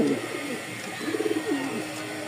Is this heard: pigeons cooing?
yes